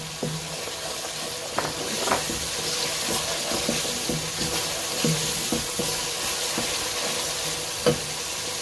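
Cumin seeds sizzling in hot oil in a pan while chana dal is fried, a steady broadband hiss with scattered small pops and a few utensil taps, continuous and close, with no talking.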